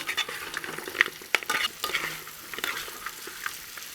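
Spoon scraping and stirring through orange chicken pieces sizzling in a pan, with intermittent clinks and a steady frying hiss throughout.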